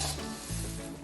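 Dhani papad chevdo being tossed in a pan with a little oil, a brief close burst of sizzling and stirring, no talk.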